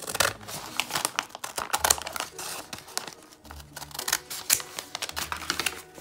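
A plastic bag from a craft store being cut apart, crisp crinkling and snipping noises in irregular bursts, close and fairly quiet, no talking.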